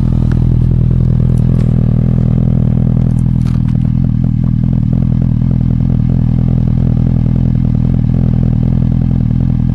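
Suzuki Bandit 650 inline-four motorcycle fitted with a Leovince aftermarket exhaust, idling with a steady, loud low rumble and a few light mechanical clatters throughout.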